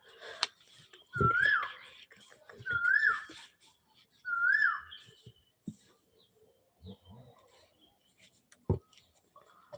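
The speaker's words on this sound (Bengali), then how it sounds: "তপন দেখ শুনতে পাচ্ছ না কোকিলটা দুষ্টু তো ওই জন্য ডাকছে" Three short whistled calls of an Asian koel in a row, evenly spaced and fairly near, amid scattered thumps and faint background noise.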